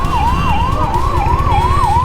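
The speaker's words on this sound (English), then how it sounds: "let that ambulance go" An ambulance siren wails loudly and close, sweeping up and down in a steady repeating pattern over traffic rumble.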